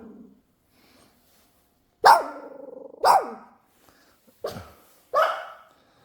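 A dog at a country house in Hongcheon gives four sharp, loud barks spaced roughly a second apart, close by, with near silence between them.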